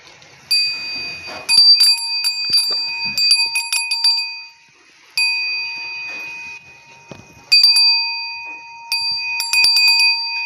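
Metal bells tied to a bull's neck jingle in bright, close bursts of several strikes each, with short quiet gaps between clusters and no talking.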